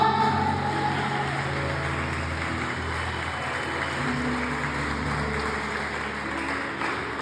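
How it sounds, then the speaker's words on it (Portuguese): A church congregation applauds, a steady wash of clapping filling the room, sustained and even with no voices heard. "Você pode aplaudir o Senhor?"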